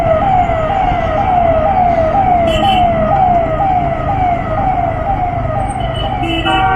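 A loud, close police siren wailing in quick repeated up-and-down sweeps, steady and continuous, with a few short tones layered on top.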